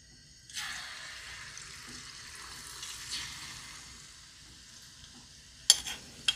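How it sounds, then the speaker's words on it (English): A small drop of conch fritter batter lands in hot oil and sets off a steady, faint sizzle that lasts several seconds, ending with a couple of sharp clinks. "we just drop just a little bit of batter in to see what the oil is saying"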